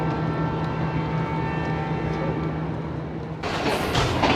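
Awam Express passenger train running from Hyderabad toward Rohri, a steady loud rumble of wheels and carriage noise with a low hum throughout, brightening into a harsher rushing clatter near the end.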